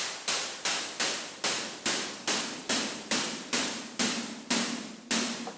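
Bitwig E-Snare drum synth hits with boosted filter resonance: a steady, evenly spaced series of about a dozen loud, sharp snare strikes, each decaying quickly, with a faint ringing tone below that grows more focused toward the end.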